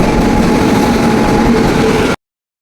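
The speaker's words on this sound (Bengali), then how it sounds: "চলে এসেছে। দেখো আমাদের ট্রেন।" A train rumbles steadily and loudly close by as it pulls into the station, a continuous heavy rolling drone that cuts off abruptly.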